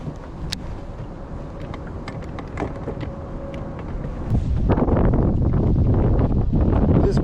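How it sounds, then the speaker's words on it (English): Strong wind blows by a winter river, buffeting the microphone in a rough roar that grows louder and denser partway through, with faint scattered knocks and rustles beneath it. "This wind is really picking up now, big time. It's really blowing hard."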